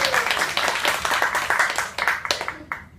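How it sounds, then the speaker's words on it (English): An audience at a Toastmasters speech contest applauds in a dense, steady round of claps that tapers off and stops near the end. "Let's give it a round of applause."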